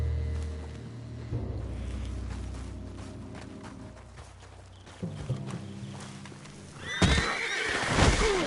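A horse in the video game Red Dead Redemption 2 gives several sharp neighs and whinnies, mixed with hoof clip-clops and shuffling steps, loudest near the end.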